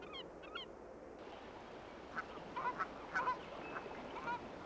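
Canada geese honk in short bursts at a distance in Acadia, Maine, several calls scattered over a steady outdoor background hiss.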